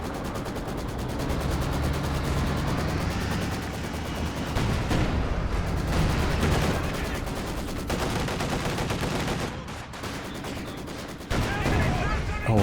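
Dense gunfire from a real-time strategy battle with infantry machine guns and an IS-2 tank: rapid, overlapping bursts and heavier thuds keep up almost continuously, with brief dips in intensity.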